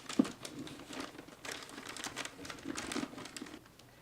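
Gift wrapping paper being folded and creased by hand, a steady run of close crinkling and crackling rustles with a few sharper crumples, no talking.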